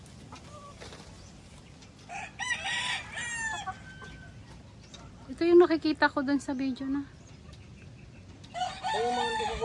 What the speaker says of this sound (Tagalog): So, ang daming manok ko.